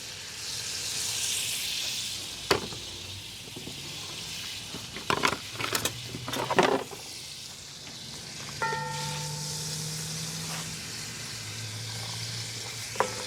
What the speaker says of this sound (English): So now I'm going to add some butter to my pot and saute up